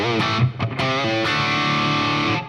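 Distorted electric guitar through a Fractal Audio amp preset with an impulse response and reverb, a few picked chords then a long sustained ringing chord that fades out, loud and alone.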